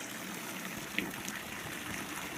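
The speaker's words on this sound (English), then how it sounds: "they've got a pipe feeding into a tub here" Warm water pours steadily from a pipe into a tub outdoors in a Nevada valley, a constant broadband rush with no pauses, moderately near and unbroken by talk.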